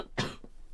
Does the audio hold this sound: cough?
yes